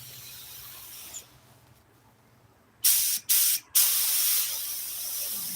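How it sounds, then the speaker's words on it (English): Spray can firing three short, loud hissing bursts in quick succession, then a longer continuous spray that fades into a steady softer hiss, in a garage-style workshop during a Studebaker truck seat restoration. "You can't spray this crap with a spray can."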